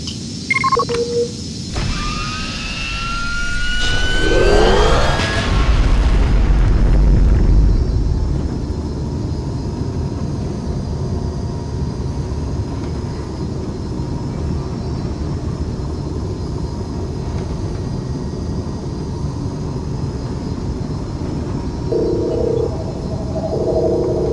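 A Star Wars X-wing jumps to light speed: whining tones sweep upward into a roaring whoosh, which settles into a sustained low engine rumble, with faint electronic beeps near the end.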